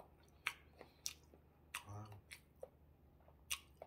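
Close-up chewing of Lotte pink sausage, with moist, squishy bites in an uneven rhythm and a few sharper clicks in between, no speech.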